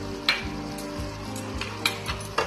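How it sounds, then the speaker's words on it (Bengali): Spatula stirring boiled banana stem in a pan, soft scraping and light sizzle with a few sharp metallic clinks of the utensil against the pan. "থোড় খুব ভালোভাবে সিদ্ধ হয়ে গেছে, একটু খুন্তি দিয়ে এই ভাবে ঘাটা ঘাটা করে নেব।"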